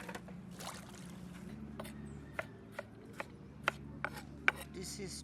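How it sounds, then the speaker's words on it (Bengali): A knife cuts tomatoes on a board during home cooking, a series of crisp, regular chops close up over a low background hum. "This is tomato cutting."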